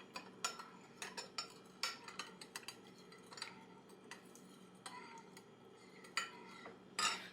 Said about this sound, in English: they can sit here and stir it